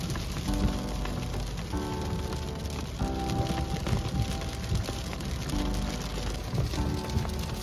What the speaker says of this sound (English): I stood in an insane hailstorm in Glacier National Park in the winter